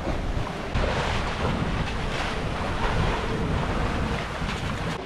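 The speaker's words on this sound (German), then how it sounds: "Immer noch ein bisschen Nordostwind und immer noch richtig viel Schwell." A steady roar of northeast wind buffets a sailing boat at sea in heavy swell off Pitcairn Island, with continuous surging and rushing water, loud and close throughout with no voices.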